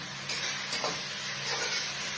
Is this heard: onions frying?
yes